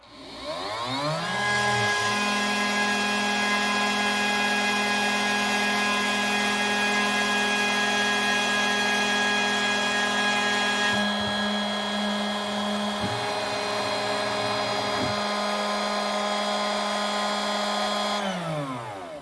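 A homemade CNC machine with its spindle at 12,000 RPM cuts out a PCB with a 1.5 mm end mill, giving a loud steady high whine with shifting tones that runs throughout and winds down at the end.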